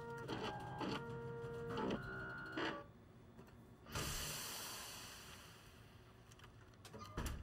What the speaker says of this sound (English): Wow, fancy 3D printer.